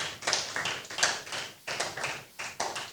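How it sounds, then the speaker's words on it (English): A church congregation claps for a member, with several short bursts of hand claps separated by brief pauses, fairly close and lively. "Please clap for her."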